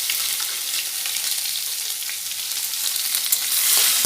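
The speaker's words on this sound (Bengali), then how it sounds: "তো মশলাটার জন্য আমি কাঁচা লঙ্কা পেস্টটা ভেজে নিচ্ছি," Green chilli paste with ginger and garlic fries in hot oil in a wok, giving a loud, steady close sizzle with faint stirring, no voices.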